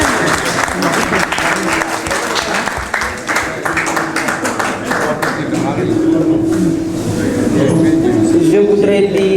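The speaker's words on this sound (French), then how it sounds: "Il faut applaudir le Marina." Audience applause at a poetry book signing, steady dense clapping from a crowd that holds for several seconds, with a voice briefly rising over it near the end.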